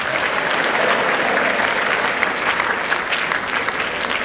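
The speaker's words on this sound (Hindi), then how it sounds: "हर बार तालियों के साथ जरूर कहे जय गुरुदेव" Loud, sustained applause from a large school audience at a special programme, dense clapping from many hands close by, steady from start to finish with no pause.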